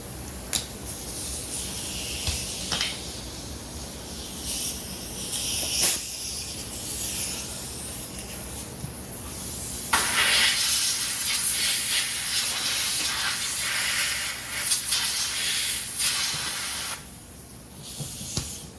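Compressed air hisses in loud, sustained blasts to clear dirt from the wheel speed sensor of an Infiniti I30 during CV axle work, with short pauses and shifting intensity between bursts.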